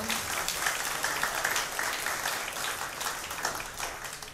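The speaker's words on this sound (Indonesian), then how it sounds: "sekali lagi tepuk tangan buat adik Simon" A church audience at an Easter celebration applauds a young performer: dense, steady clapping from many hands fills the room, holding at a fairly even level throughout with no voices standing out.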